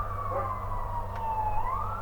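Wailing emergency vehicle siren sweeping slowly down and back up in pitch, heard at a moderate distance over a low rumbling background hum.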